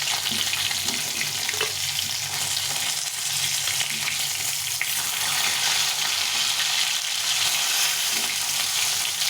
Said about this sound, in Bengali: মাছগুলো একটু লাল লাল করে ভেজে নিয়েছি